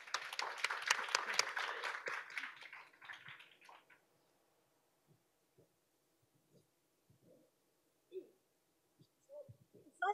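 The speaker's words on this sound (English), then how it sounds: "So can we give them a round of applause?" Audience applause at a talk or panel event, a burst of clapping that fills the first few seconds and then fades away, leaving near silence with a few faint knocks and shuffles.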